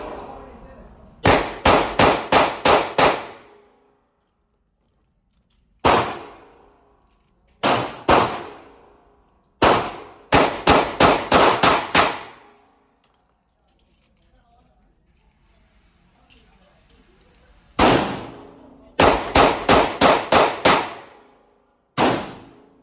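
A .38 Special/.357 revolver fires at an outdoor range in sharp, loud shots, in quick strings of five or six with brief pauses between them.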